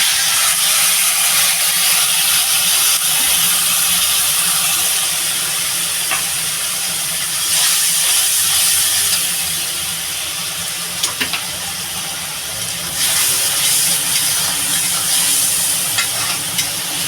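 Tomato hits hot oil with spices in a pan for a Bengali pabda fish oil-jhal, giving a loud, steady sizzle and hiss that dips briefly midway, with a few sharp stirring clicks.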